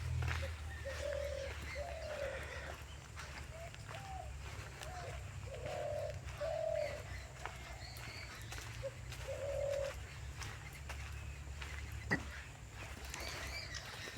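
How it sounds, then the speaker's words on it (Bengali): Pigeons or doves coo in a dense forest, a string of soft, rhythmic calls at middle distance over faint ambient hiss, with a single sharp tap near the end. "পাখিদের যে শব্দ"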